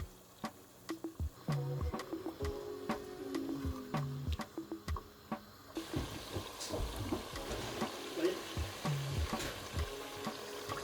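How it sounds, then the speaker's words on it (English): Blended tomato sizzling and frying in a pot of oxtail stew, a soft steady crackle with scattered sharp pops and stirring clatter, fairly quiet and close with no talk. "I will add my blended tomato and leave that as well for 5 to 10 minutes"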